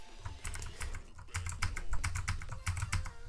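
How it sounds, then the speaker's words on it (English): Steady clicking of typing on a computer keyboard, with rapid, uneven keystrokes heard up close and alone over a low background hum. "Now just type in your name in all caps."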